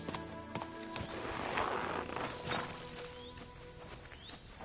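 Horse hooves gallop at a steady clip-clop in the medieval video game Kingdom Come: Deliverance 2, close and continuous, with a brief whinny and faint birdsong in the background.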